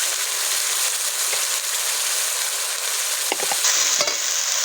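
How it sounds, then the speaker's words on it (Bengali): Onion paste is stirred in a frying pan, with a constant loud sizzle and a few sharp scrapes and clinks of the spoon toward the end. No one speaks. "পেঁয়াজ বাটাগুলোকে খানিক্ষণ নেড়ে নিতে হবে"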